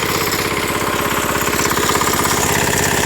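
The small engine of a walk-behind tractor chugs loudly and steadily up close in winter, its rapid rhythmic knocking running without pause.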